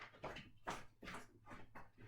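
Dogs whimper and whine in short, repeated bursts at a fairly quiet level, each cry rising and falling with brief gaps between them, no talking present.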